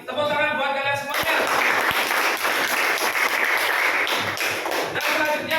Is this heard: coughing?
no